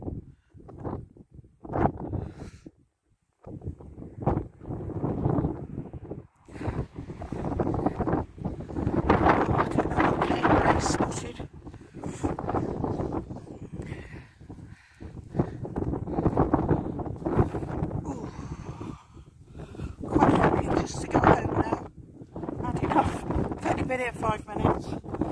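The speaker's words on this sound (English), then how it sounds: "It's cold. It's windy." Cold, blustery wind with hail blows across an open outdoor spot, roaring in rough gusts into the microphone for the whole stretch, with a short lull near the start.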